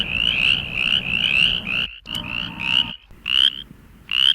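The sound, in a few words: frog calling, resembling mountain chorus frog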